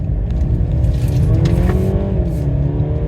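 A Mercedes C300 W206 sedan takes off from first gear in manual mode, its engine revving up in a loud, rising drone heard from inside the cabin, climbing steadily over a few seconds.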